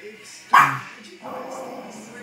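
A jealous dog gives a sharp yelp-like bark followed by a higher whimpering whine, close and loud, with a person talking around it.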